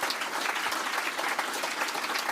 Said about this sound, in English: Yes, a big round of applause for them.